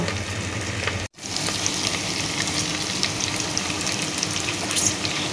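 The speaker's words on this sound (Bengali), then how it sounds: "সুন্দর করে কষিয়ে নিব।" Meat with fat and spices sizzles and fries steadily in a pan, a close, continuous crackle with a brief stir break near the start, no talk.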